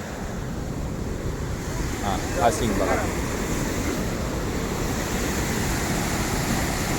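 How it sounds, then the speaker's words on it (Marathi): Water pours through all the open gates of the Terna dam, a steady broadband roar of falling water close by that continues for the whole stretch while people talk over it. "पुन्हा एकदा आपण खालच्या बाजूने कसं पाणी पडतं हे पाहूया"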